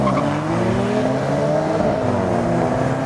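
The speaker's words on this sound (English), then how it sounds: "There's an ignition cut every time you change gears, so it sounds like a little rally car." An Alfa Romeo 4C engine pulls hard and steadily up through the revs, loud and close, with rising harmonic tones and a raspy edge as it accelerates on the road; no voices.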